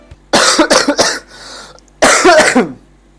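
A man coughs, three harsh coughs in quick succession, a pause, then another loud burst of coughing, close and clear with no talking.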